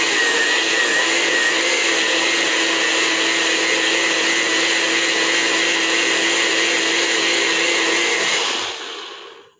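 A JML Nutri Blitzer blender runs steadily, blending a cucumber smoothie with a loud, continuous whirring motor for about eight seconds before winding down to silence.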